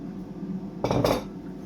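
A spoon briefly clatters in a pan while chopped coriander and spinach leaves are mixed into a ragu-style ratatouille base with Quorn fillets, one short scraping burst against low kitchen background.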